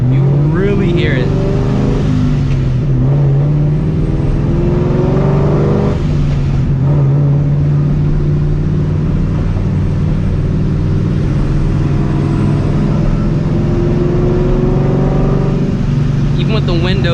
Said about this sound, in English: you really hear that blowout valve now